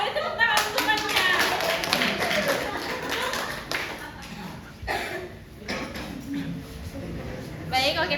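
Classmates clap for a fellow student in a school classroom, a dense burst of hand claps mixed with children's voices and chatter, fading midway then picking up again with a fresh flurry near the end.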